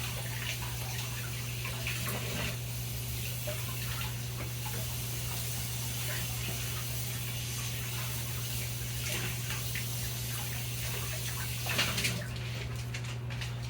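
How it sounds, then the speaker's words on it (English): A hat, such as a New Era, Carhartt, Nike or work cap, is rinsed under a steady stream of running water in a sink, with a continuous close hiss of flow that stays constant and briefly swells near the end. "I'm gonna rinse her down in the sink first, just get her all wet."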